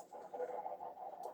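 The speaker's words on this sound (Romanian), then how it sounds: "Vedeți câte găini avem." Chickens cluck in the Minecraft video game, a quiet run of soft repeated clucks heard alone in a brief burst.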